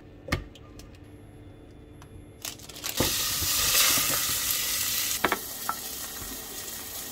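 Steak placed into a hot pan breaks into a loud, steady sizzle after a few sharp knocks and clatters, continuing close by with occasional taps and no talk.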